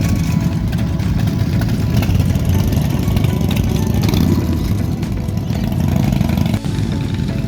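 Motorcycles and an old Holden HQ drive past at a car show: a steady, loud engine rumble that holds for the whole stretch, with no talking.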